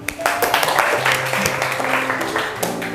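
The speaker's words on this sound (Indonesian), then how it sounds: "Tepuk tangan dulu." Classroom applause from students at a Hindu religious studies lesson in Singaraja, Bali: steady clapping fills the clip with some voices mixed in.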